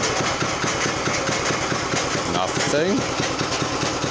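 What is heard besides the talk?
Craftsman 5hp rear tine tiller engine idling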